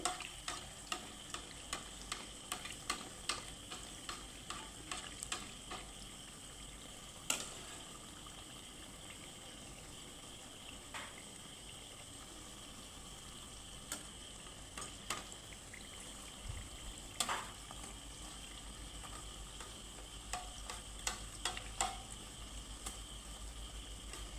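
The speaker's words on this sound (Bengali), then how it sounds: "এভাবে একটু তেল দিয়ে দিয়ে ভেজে নিতে হবে" Pitha fries in a shallow layer of oil, a soft continuous sizzle with scattered crackles and occasional sharp pops or utensil taps, fairly quiet and without voices.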